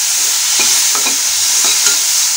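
Spine gourd is stirred in a pan with turmeric and salt, giving a steady soft sizzle with a few scraping strokes of a spatula, close and moderately loud with no talking.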